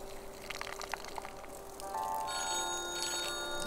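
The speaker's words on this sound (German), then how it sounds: "Telefon." In the video game Orten: Was the Case, a telephone starts ringing partway through with a steady electronic trill over faint watery background noise, loud and close once it begins.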